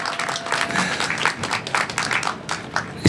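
Applause from an audience at the opening ceremony of the 44th Korean Festival, a short burst of fairly close clapping that stays steady for about three seconds.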